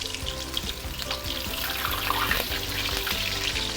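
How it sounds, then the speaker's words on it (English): A fish head deep frying in hot oil on high heat for a fish head tofu stew, with a steady bubbling sizzle and irregular crackles underneath, close and fairly loud throughout without talk. "deep fry the fish with your high heat all the way"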